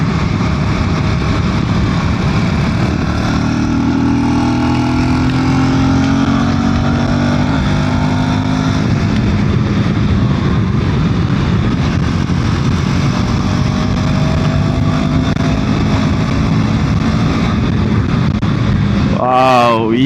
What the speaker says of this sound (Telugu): అయితే మనం కొంచెం పవర్ఫుల్గా అయితే రైడ్ చేస్తున్నాం బైక్ని.